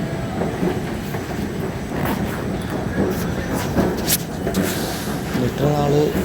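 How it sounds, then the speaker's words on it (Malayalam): A metro train runs on its line, a continuous rolling rumble with rhythmic clickety-clack and a faint wheel squeal, while people talk nearby throughout. "മെട്രോ എടുക്കാനായിട്ട് താഴേക്ക് പോകണം."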